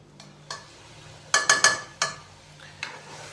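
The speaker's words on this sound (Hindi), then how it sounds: "अभी हम दाल माश को अच्छी तरह भूनेंगे" Urad lentils (mash dal) are stirred and roasted in a pot, a spoon scraping and clinking against the metal in a handful of sharp, irregular knocks over a soft sizzling background.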